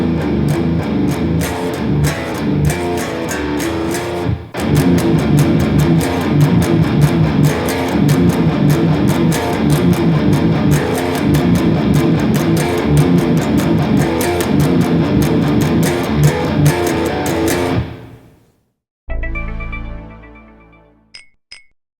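Distorted electric guitar plays a variation of a riff, loud and dense with rapid chugging and a short break near the start, then stopping abruptly and ringing out with a few scraping string noises.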